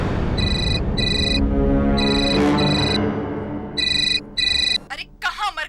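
A telephone rings in repeated double bursts, loud and close, with a low background rumble underneath before a voice begins speaking at the end.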